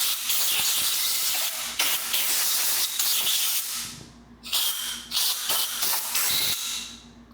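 Compressed air blasts out shiny cleaned hydraulic valve parts from a Bobcat valve stack, repeated loud hissing bursts with brief pauses between them, close and with no talk.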